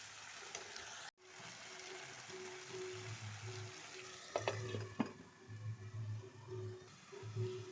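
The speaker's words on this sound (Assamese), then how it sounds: "এয়া মই গৰম পানী দি ল'লোঁ মাছৰ জোলত দিবৰ বাবে" Hot water is poured into a sizzling fish curry in a pan, giving bursts of bubbling and frying hiss with a few clinks of a utensil, fairly close and with no talking.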